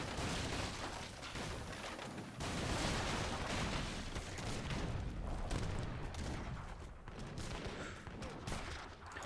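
Heavy cannon and culverin artillery fire in an Age of Empires III match rumbles without letup, a dense, loud barrage of overlapping booms and volleys with no clear gaps.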